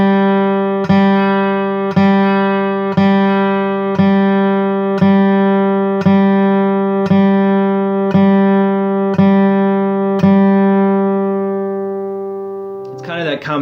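Acoustic guitar strings picked at the back of the sound hole, a sustained chord re-struck about once a second in an even pulse, ringing close and full, with a brief sound at the end.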